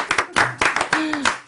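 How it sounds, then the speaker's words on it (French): Short bursts of hand clapping from a small audience after a live acoustic pop soukous rock set, several quick claps near and uneven, with voices talking and cheering over them. "je peux applaudir maintenant"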